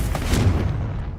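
The Confringo blast spell in Hogwarts Legacy goes off as a single loud, deep explosive boom that rumbles and fades over about a second.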